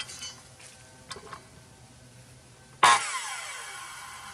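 Quiet handling clicks come first, then a 15 amp Makita circular saw with an 8.5 inch blade roars in suddenly and loudly near the end, with its motor whine shifting in pitch as it works on rough sawn lumber.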